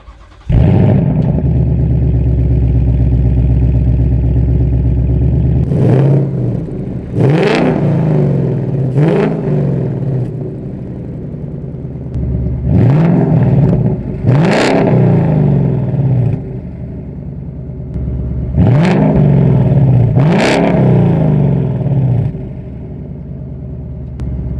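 A 2019 Ford Mustang GT Performance Pack 1 with a Steeda X-pipe exhaust idles with a deep rumble, then barks through about six sharp rev blips, mostly in quick pairs, loud and close with no talk.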